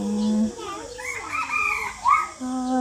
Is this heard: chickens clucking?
yes